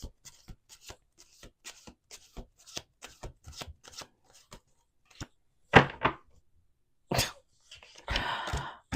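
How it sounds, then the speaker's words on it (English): Cards are riffled and tapped in a quick series of crisp, close bursts, then a few louder shuffles with pauses between them. "Last shuffle."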